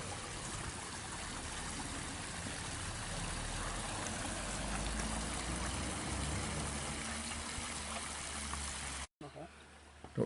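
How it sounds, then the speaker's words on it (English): Water trickles and splashes steadily from a water feature outside a small town hall in Vannes, a continuous soft wash of running water heard from nearby for several seconds before a brief break. "it's got a water feature."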